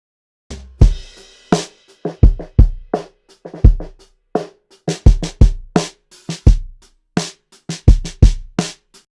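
Snare drum hits with a papery midrange tone, struck alone in a steady programmed pattern of sharp, loud hits with short decays, about two dozen strikes.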